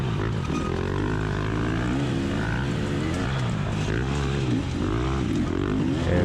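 A race motorcycle engine revs behind the rider, a loud, continuous buzzing drone with rising and falling pitch sweeps over strong wind and engine noise.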